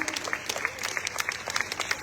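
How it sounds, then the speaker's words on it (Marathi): An audience at a local ward election campaign event claps loudly to welcome a candidate, a dense burst of quick, overlapping hand claps lasting the whole moment. "सगळ्यांनी जोरदार टाळ्या वाजून"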